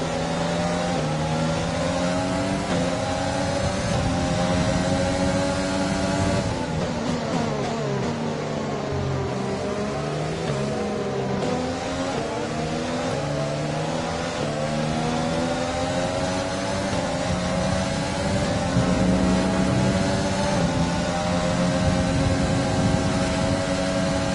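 Formula 1 race car engine in a racing video game at the China circuit, a steady high-pitched engine whine with shifting revs and harmonic sweeps, continuous and loud throughout, no talking.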